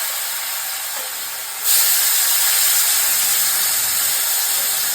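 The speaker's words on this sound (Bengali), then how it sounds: "মা এদিকে আলু ভাজা করছে।" Potatoes fry in hot oil in a home kitchen, a steady broadband hiss that surges louder after a couple of seconds and then holds constant, close and with no talking.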